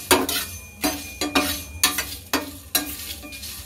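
Spices dry-frying for mango pickle, stirred in a pan with loud, regular scraping strokes and light metal clinks over a soft sizzle, close up.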